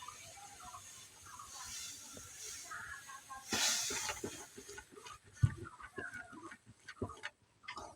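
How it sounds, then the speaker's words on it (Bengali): Salted water comes to a boil in a wok on the stove, giving a steady close hiss and bubbling with a brief louder surge and a few soft knocks partway through. "পানিটা উতলা উঠিছে"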